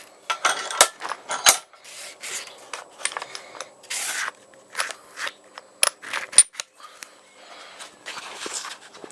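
Hand-cocking a homemade carbine crossbow gives a quick run of close, sharp mechanical clicks, scrapes and creaks, irregular and bursty with brief gaps, with no continuous background noise.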